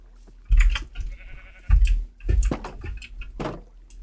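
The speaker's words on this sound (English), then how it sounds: "Don't know why there's sheep with pigs." Sheep bleating in the Minecraft video game, a few short bleats spaced across the moment, fairly close and clear with a low thump under the first calls.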